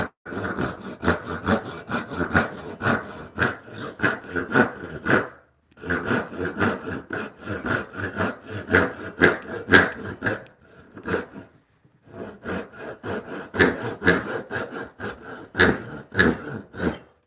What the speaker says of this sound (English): I don't love this pull saw either.